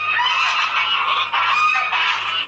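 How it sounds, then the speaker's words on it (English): A gaggle of geese honks continuously, a dense overlapping chorus of loud nasal calls that swells and dips, close by and with no talk over it. "it's a gaggle of geese, and they're coming for her"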